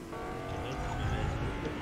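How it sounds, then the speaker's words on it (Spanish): A car drones steadily nearby, its engine hum holding level and growing slightly louder as it comes closer. "Viene un carro"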